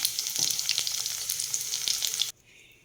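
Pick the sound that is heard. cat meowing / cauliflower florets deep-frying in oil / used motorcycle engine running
cauliflower florets deep-frying in oil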